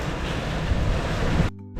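Strong wind and waves hammering a sailing catamaran on passage, a loud continuous rush of wind noise and crashing water that cuts off abruptly near the end.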